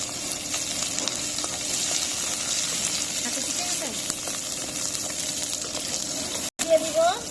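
Garlic and green chilies frying in hot oil, a steady hissing sizzle that runs throughout with occasional stirring, while someone talks over it.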